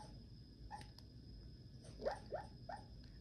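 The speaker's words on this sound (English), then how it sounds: "That is Roscoe barking. He is having some good dreams" Faint muffled woofs and soft whimpering yips from a dog barking in its sleep, a few short sounds in a quiet room.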